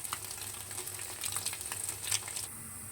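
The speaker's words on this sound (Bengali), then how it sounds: "অলমোস্ট ফ্রাই হয়ে গেছে পনিরগুলো, আমি এখন নামিয়ে ফেলবো।" Paneer pieces frying in a pan make a steady, close crackling sizzle with small pops and a light stir, without any talking.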